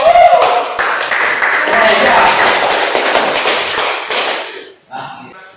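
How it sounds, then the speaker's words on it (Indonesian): Classroom audience applauding a student presenting group, steady broadband clapping that fills most of the clip and tails off near the end. "Berikan aplaus kepada kelompok."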